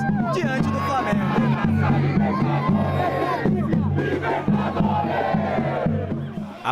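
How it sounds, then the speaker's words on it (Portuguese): Palmeiras football fans outside the training ground, before the Libertadores final against Flamengo, chant together as a large crowd, loud rhythmic massed voices with shouts over the top. "todo mundo fez uma festa muito grande para os palmeirenses em busca do título da Conmebol Libertadores"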